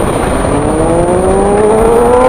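A loud vehicle exhaust revs steadily with a rising engine tone, close and continuous on a Jakarta street.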